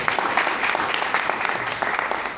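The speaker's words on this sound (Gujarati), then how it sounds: "ખાસ ગોપાલભાઈ માટે ખાસ તમારે લાગે છે તાળીઓ પાડવી જોઈએ" An audience claps for Gopalbhai at an introduction gathering for a book initiative: dense, steady applause from many hands, close and continuous for the whole stretch with no voices over it.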